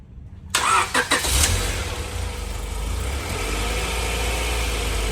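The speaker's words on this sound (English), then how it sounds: "you want to hit it and see if it runs better?" A JDM Honda Civic Type R EK9 cranks and fires up, a short burst of starter whirring giving way to a loud, close engine settling into a steady rough idle.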